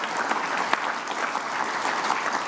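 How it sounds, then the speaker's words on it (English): Audience applause honoring Jill at an event joining forces with Major League Baseball, a steady, dense wash of many hands clapping from a sizable crowd, sustained evenly throughout without any talk over it. "let's give Jill another round of applause"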